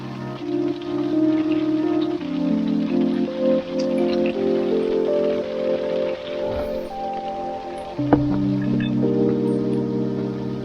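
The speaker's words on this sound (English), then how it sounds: "we're in the middle of a hailstorm right now." Hailstones drum steadily on a sealed truck during a warm April hailstorm, a dense continuous patter close around the cab with a few sharper impacts, no voices.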